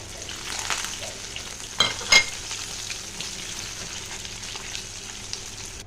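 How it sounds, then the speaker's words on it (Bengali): Bori, lentil dumplings, sizzle and fry in plenty of hot oil in a home kitchen pan, a steady close crackling hiss with a couple of sharper spatters partway through. "বড়িগুলো দিয়ে দিলাম দেখো বড়ি ভাজতে কিন্তু অনেক তেল লাগে"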